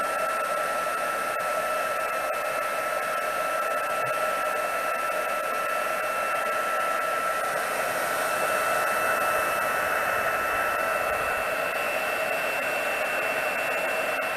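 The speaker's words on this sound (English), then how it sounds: "my heat tool's not heated up yet" A craft heat tool blows hot air in a steady, loud whirring hiss that holds unbroken from start to finish.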